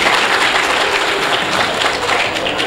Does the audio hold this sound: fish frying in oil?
no